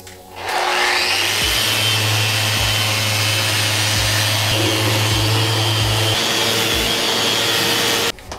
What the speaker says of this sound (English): Right now we just have 150 grit on the Rotax.